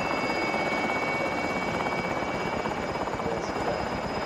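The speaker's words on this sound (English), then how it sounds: "There's a chopper just." A helicopter in Call of Duty: Warzone throbs steadily at a moderate distance, a continuous rotor drone with a faint high whine above it and no voices.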